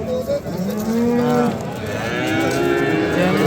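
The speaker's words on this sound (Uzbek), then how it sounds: "O'ta chiroyli ekan buzoqchalar" Young calves moo close by, a drawn-out low bellow sliding in pitch followed by another rising call, loud and clear with no talking.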